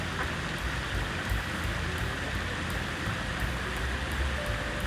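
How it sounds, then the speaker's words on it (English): A steady, broadband hiss of flowing water fills the clip, constant and moderately loud with no voices. "And there's the running water."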